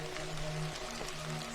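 Steady rain falling at night, a dense, even hiss of drops that holds at a constant level throughout, with no voices.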